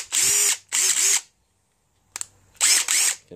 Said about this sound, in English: That's where my DeWalt nut driver comes in use. 20 volt, very strong.